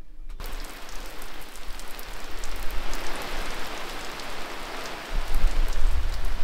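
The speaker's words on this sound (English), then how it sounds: "This is the first proper rain we've seen for months." Rain falls at a beach camp, a dense, steady hiss of drops drumming on surfaces nearby that grows heavier toward the end, with no talking.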